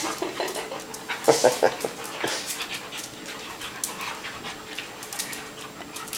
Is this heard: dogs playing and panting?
yes